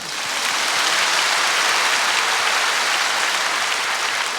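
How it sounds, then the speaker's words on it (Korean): A church congregation bursts into applause during a Korean sermon: dense, loud, continuous clapping from a large crowd, filling the space like heavy rain with no voices over it. "하나님께 한 박수 하십시다"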